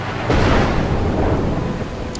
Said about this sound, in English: the rain must just be blowing right in underneath here